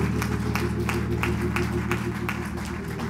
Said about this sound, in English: We clap our hands in praise.